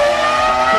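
A Formula 1 V10 racing engine screams at about 19,000 rpm, a sustained piercing high-pitched whine heard loud and close for a brief moment.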